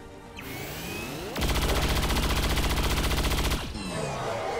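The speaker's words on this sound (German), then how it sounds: "Aber dann darf Noss jetzt einmal kurz schießen." A soldier firing in XCOM 2 lets off a loud, continuous burst of rapid automatic gunfire lasting about two seconds, with game ambience and whooshing effects before and after.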